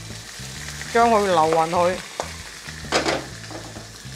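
Salmon fillet frying in a pan with just a drop of oil, a steady close sizzle that swells as it is stirred, with a voice speaking briefly over it.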